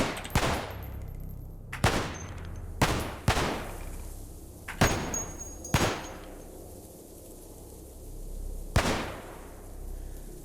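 Gunshots ring out in the video game Cataclysm DDA: about seven sharp, loud reports at uneven intervals, each trailing off in a short echo.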